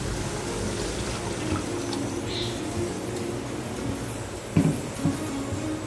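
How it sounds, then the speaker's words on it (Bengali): Spice-rinse water poured into a pan of fried masala for a jackfruit kabab curry makes a steady, close wash of liquid that runs throughout, with a brief clunk near the end. "এবার আমি মশলা ধোয়া জলটা দিয়ে দিচ্ছি"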